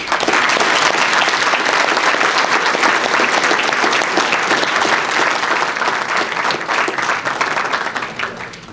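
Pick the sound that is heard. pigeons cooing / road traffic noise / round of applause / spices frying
round of applause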